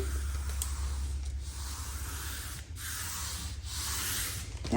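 Soft pastel being rubbed into paper, a faint continuous dry scrubbing hiss with a few brief swells, close up over a low steady background hum and no talking.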